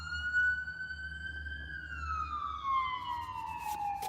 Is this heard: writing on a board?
no